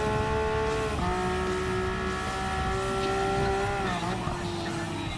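An Aston Martin Vulcan hypercar engine in Gran Turismo Sport, holding a steady high drone with a brief shift in pitch partway through, then settling again, loud and continuous with faint tire noise.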